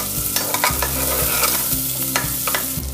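Vegetables roast and sizzle in a pan over medium heat for a few seconds, a constant close frying crackle with stirring scrapes and a low hum underneath, no voices.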